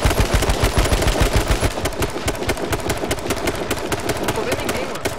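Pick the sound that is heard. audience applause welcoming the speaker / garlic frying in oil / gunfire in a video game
gunfire in a video game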